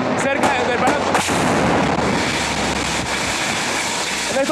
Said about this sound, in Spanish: está cayendo uno de los cohetes cerca del Palacio